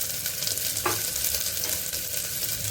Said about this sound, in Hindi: अब हम इसके अंदर डाल रहे हैं गार्लिक और प्याज, और इसको ट्रांसलूसेंट होने तक भूनेंगे